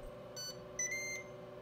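A Ninja Foodi XL Pro Air Oven gives its preheat notification: a short electronic beep followed by a longer sustained tone, clear over a steady low appliance hum with no talking.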